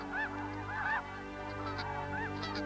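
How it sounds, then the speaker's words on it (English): Snow geese arriving to nest on the Arctic tundra honk several times, a few clear calls in loose succession at moderate distance over a quiet open background. "the snow geese and their neighbors arrive and begin nesting as soon as possible"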